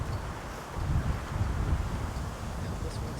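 Wind gusts across an outdoor disc golf course, a soft low rumble of buffeting air on the microphone that swells in the middle and then settles, fairly faint with no talking.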